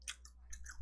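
Soft, close chewing of chewy raw octopus sashimi during a sushi and salmon sashimi meal: a few moist bites and squishes within a second, with a low steady hum beneath.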